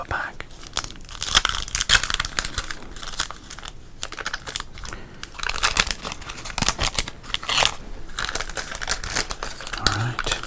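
Foil wrapper of a 1991 Topps baseball card pack being torn open and crinkled up close, a dense run of sharp ripping and crackling bursts with brief quiet gaps, loud and intimate.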